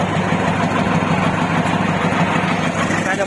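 A Thai I-Taen farm vehicle fitted with a turbo 3000 engine idles steadily nearby, its loud, even rumble and low knocking hum running without a break through the whole stretch.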